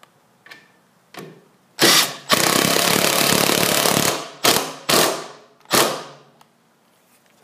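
Screws are driven with a power driver into an aluminum diamond plate cover for a Blackstone 28-inch griddle. Several short close bursts are followed by one sustained two-second run, then a few more quick spurts with clicks between.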